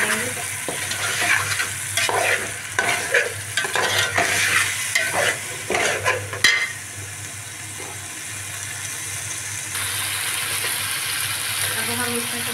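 Ginger garlic paste and ground green chilli fry in a pot for chicken yakhni pulao, with close, rhythmic spoon scrapes over a hot sizzle that continues as a steady hiss once the stirring stops.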